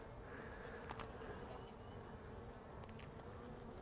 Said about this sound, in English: Quite a few bees in there actually.